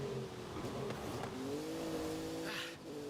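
A car engine in a driving video game holds a steady hum with rising and falling pitch as it drifts through corners during a storm, continuous throughout with a brief hiss near the end.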